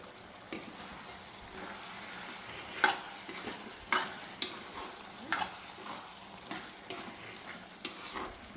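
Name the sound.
stirring pumpkin curry with tamarind water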